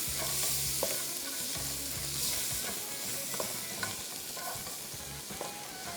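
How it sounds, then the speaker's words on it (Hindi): Ginger and garlic frying in oil for a mince dish, a steady crackling sizzle with repeated utensil stirring and scraping against the pan throughout, fairly close and continuous with no talk. "और अब इसकी हम थोड़ी सी ज़रा फ्राइंग करेंगे पहले"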